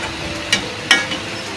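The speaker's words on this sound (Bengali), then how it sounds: "আলু দিয়ে মাংসটা বসিয়ে কষাচ্ছি" Meat with potatoes sizzling in a small kadai, a steady frying hiss broken by two sharp clinks of a spatula against the pan.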